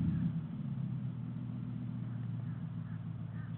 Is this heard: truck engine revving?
yes